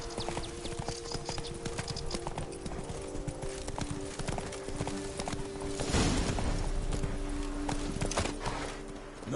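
Steady clip-clop of the horse Roach's hooves in a video game, a regular walking rhythm running throughout with a brief whinny-like swell near the end, over light background ambience.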